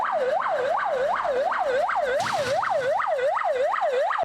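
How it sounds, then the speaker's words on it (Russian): Emergency service vehicles and ambulances of Russia's emergency ministry race by with a loud, rapid wailing siren, cycling up and down in a steady rhythm, close and dominant over faint traffic noise. "с ревом летают дежурные расчеты МЧС и автомобили"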